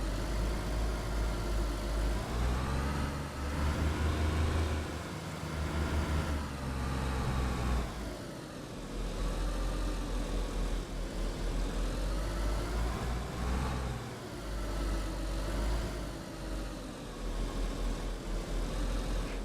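A white sedan's engine drones steadily while driving through open countryside in DayZ, a loud continuous low rumble with slight swells as the revs shift, no voices over it.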